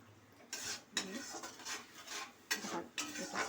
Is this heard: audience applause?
no